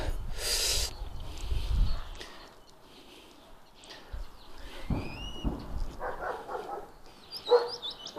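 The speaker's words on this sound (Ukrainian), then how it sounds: "Мухтар гавкає" A dog barks a few times at a middle distance in a vegetable garden, the short yaps scattered among outdoor background noise and faint birdsong.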